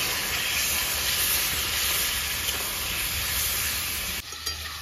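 Chicken pieces frying in a karahi with ginger garlic paste, a loud continuous sizzle and hiss close up, stirred steadily, cutting off abruptly near the end.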